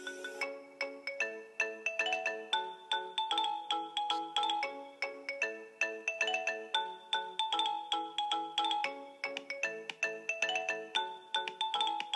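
The iPhone Marimba Remix ringtone plays alone at a moderate level, its bright plucked marimba-like notes looping in a steady, repeating melodic pattern.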